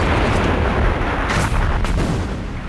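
Artillery shells fire and burst in a World War I battle sound effect, a continuous heavy low rumble broken by several sharp booms around the middle and toward the end.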